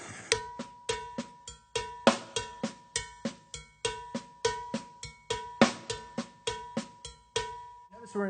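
Drum kit playing a double paradiddle sticking in 6/8, a steady stream of crisp, evenly spaced strokes with accented hits and a bright cowbell-like ring, loud and close with no talking.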